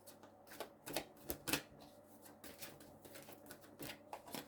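Moon oracle cards being shuffled, a faint run of quick papery flicks and taps in irregular bursts, heard alone without talk.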